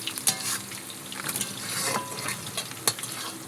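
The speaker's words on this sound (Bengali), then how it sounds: "এক কড়াইতে আলু ভাজা হচ্ছে, আর এদিকে মাংসের জন্য পেঁয়াজ ভেজে নিচ্ছি আমি" Potatoes frying in a wok over a wood fire, with onions frying nearby, making a close, dense sizzle broken by a few sharp clatters of stirring.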